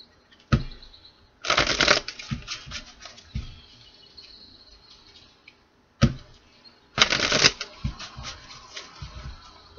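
A tarot deck is shuffled in two bursts of riffling and cascading cards, each followed by lighter taps and settling clicks, close and crisp in a quiet room.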